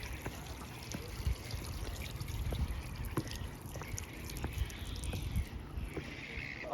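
Water trickles and drains down a set of outdoor stairs in Wellington, New Zealand, a steady close liquid wash with a few brief splashy accents.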